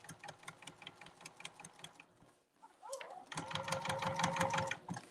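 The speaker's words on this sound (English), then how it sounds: "So we got a top stitch 1/8 of an inch. 1/8 of an inch all the way around where you sewed." A sewing machine runs in quick rhythmic bursts while top stitching an eighth of an inch from the seam, pausing briefly midway before resuming with a steadier, louder whir.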